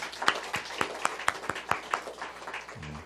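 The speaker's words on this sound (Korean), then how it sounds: "오래간만에 박수 한번 해드리죠." Sparse hand claps from a small church congregation for a choir conductor during a Sunday service, about nine distinct claps in a loose rhythm, fairly quiet and close, ending with a brief voice.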